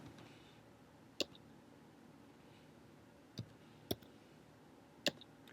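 Four sharp plastic key clicks on a TI-83 or TI-84 graphing calculator, sparse and irregular, close by in an otherwise quiet room with faint background hiss.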